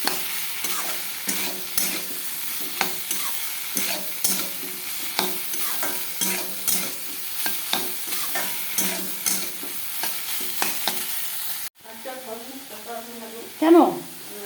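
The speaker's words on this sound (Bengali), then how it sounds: "সোয়াবিনটা একটু কষাতে হবে।" Soybean chunks are fried in a pan and stirred with a spatula, giving repeated scraping strokes over a continuous sizzle; a voice is briefly heard near the end.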